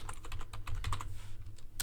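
Rapid close-up keystrokes on a computer keyboard, a quick irregular run of light clicks with a short pause before a final tap.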